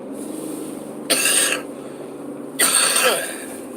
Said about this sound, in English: Glad when this cough clears up.